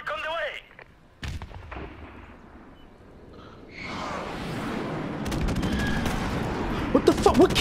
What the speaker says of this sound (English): we got an airstrike coming, which is awesome